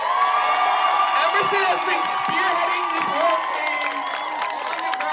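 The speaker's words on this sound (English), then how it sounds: "can we give a huge round of applause for Emerson?" A crowd at a March Against Genocide rally at the Michigan State Capitol cheers, whoops and claps steadily under an amplified speaker's voice, forming a loud, sustained wash of noise.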